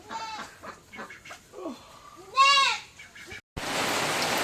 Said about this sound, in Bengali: এটা ছাগল ওটা এখন জবাই করা হবে